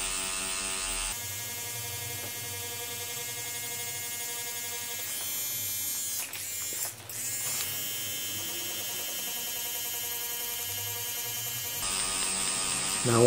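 Tattoo machine with needles shading a realistic skull, a steady close electric buzz running almost unbroken, with a brief dip midway and no talking.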